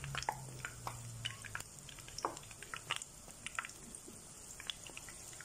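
Battered cauliflower frying in hot oil gives a soft, steady sizzle with scattered crackles and small pops, fairly faint and close, with no voices.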